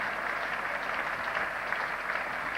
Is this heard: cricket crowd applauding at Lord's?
yes